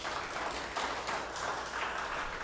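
A church congregation at a Sunday service claps for Jesus in sustained, dense applause. Many hands clap unevenly at moderate loudness, and the sound stays steady without any spoken voice on top.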